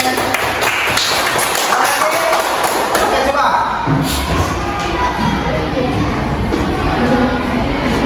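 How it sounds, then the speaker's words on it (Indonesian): Students in a classroom clap and cheer in a lively burst, hands patting unevenly amid shouts and chatter, while a teacher's voice speaks briefly over the noise. "Oke, tepuk tangan untuk ini."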